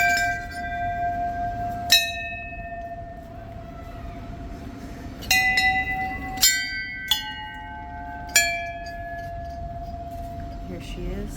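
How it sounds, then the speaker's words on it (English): Temple bells at a mandir ring out in several separate bright strikes, each leaving a long shimmering tone that fades slowly over a faint outdoor background. "we're going to call in our presence here at Ma's Mandir"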